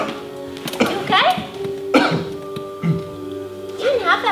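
A person coughs several times in short clusters indoors, with faint speech and a low hum in the room.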